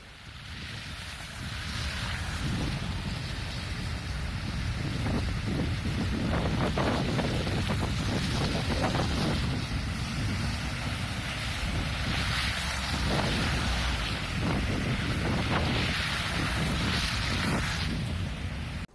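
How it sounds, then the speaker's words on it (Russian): An overflowing stream floods a road and is filmed from a passing car, giving a continuous rushing wash of water mixed with road and wind noise. It stays steady and fairly loud throughout, with no voices. "Оттайка грунтовых вод привела к разливу ручья Безымянный, из-за чего затопила проезжую часть."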